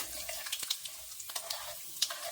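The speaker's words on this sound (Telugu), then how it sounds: "ఆవాలు ఫ్రై అవుతున్నాయండి" Mustard seeds frying in hot oil in a pan, a close hiss of sizzling with scattered small pops and crackles over a few seconds, no speech.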